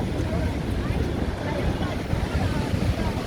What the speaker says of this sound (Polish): Woda z wodospadu rozbija się o ścianę wąwozu